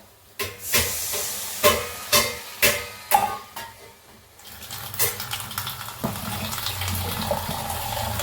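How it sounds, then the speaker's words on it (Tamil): Tamarind water pours in a few short splashing bursts, then a steady sizzling hiss follows as it hits a hot pot of fenugreek curry, close and fairly loud. "இப்போ நம்ம புளி தண்ணியை ஊற்றிக்கலாம்."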